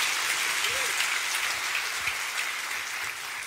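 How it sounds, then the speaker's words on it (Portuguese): A church congregation applauds during a sermon, the clapping a fairly faint, even wash of sound lasting a few seconds with a brief voice-like tone early on. "Pode dar uma salva de palmas ao Senhor"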